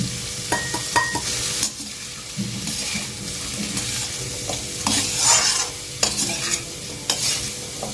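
Potatoes frying in a karahi with turmeric and salt, a steady close sizzle broken by repeated scraping stirs and light clinks of a spoon against the pan, with no talking.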